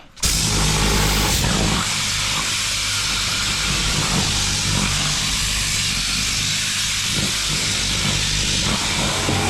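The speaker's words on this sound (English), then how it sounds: "So gonna blast this back seat right here, dirty, yeah." Pressurized air or steam blasting the dirty back seat of a car being detailed for resale, a loud, steady roaring hiss that starts abruptly and holds throughout, with no talk.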